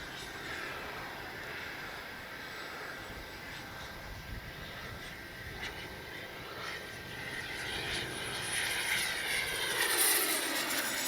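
A Freewing 80mm MiG-21 RC jet flies overhead with a faint, steady high whine of its ducted fan, swelling louder toward the end as it passes nearer.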